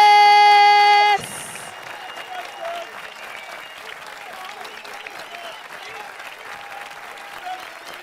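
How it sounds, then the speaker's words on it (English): Loud live audience applause and cheering at a London event, a tonal sting cutting off into sustained clapping and crowd noise that continues steadily, with some voices calling out. "we put our hands together and we scream and we shout"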